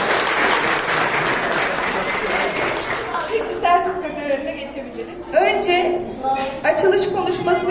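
A crowd applauds the children at a summer science, engineering and technology camp certificate ceremony, dense clapping that thins out as a speaker's voice comes in over it.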